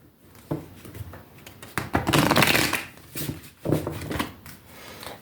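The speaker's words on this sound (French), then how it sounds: "On va bien les battre, bien les mélanger." Cartomancy cards being shuffled by hand in a quiet room, with soft riffling and sliding bursts that rise and fall in several waves, close and fairly loud, with no talking.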